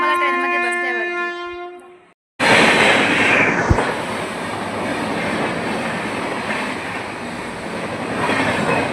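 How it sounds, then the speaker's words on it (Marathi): The Howrah Mail at a railway station in Akola: a sustained tonal blast fades out, then a loud rolling rumble of railcars follows with a sharp metallic knock partway through. "ट्रेन आहे की हावडा मेल आहे."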